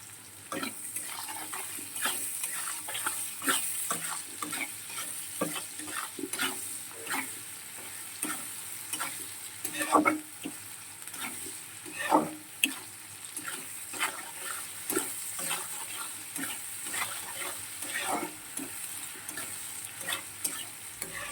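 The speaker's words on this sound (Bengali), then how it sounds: "এবারে এটা পেঁয়াজটা বেশ ভালো করে লাল লাল করে ভাজা হয়ে গেছে" Sliced onions with tomato and salt frying in a pan, giving a steady low sizzle broken by repeated scraping stir strokes, close up with no talking.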